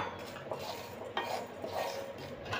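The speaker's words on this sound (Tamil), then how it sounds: "இப்போ இதை நம்ம கலக்கி கொடுத்துக்கலாம்" A spoon scrapes and clinks against a pan while a seasoned poha (flattened rice) mixture with salt is stirred, making steady close-up rattling and scraping with no talk.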